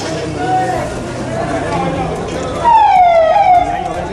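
An ambulance siren sweeps up and down in a short, loud burst near the end, over steady crowd noise and people talking nearby.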